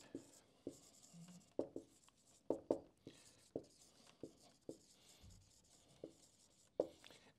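Handwriting during an economics lesson, with faint, irregular scratches and taps of the pen or marker coming in short strokes and clusters, quiet and close, with no talking over them.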